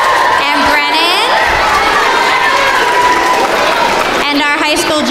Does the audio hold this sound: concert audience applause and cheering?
yes